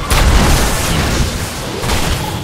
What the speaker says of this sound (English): Orbital cannon synchronized.